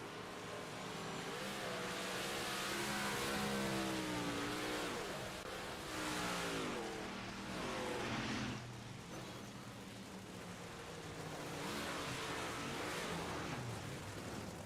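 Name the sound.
race cars passing on track in iRacing video game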